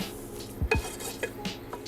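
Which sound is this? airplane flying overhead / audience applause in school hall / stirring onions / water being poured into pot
stirring onions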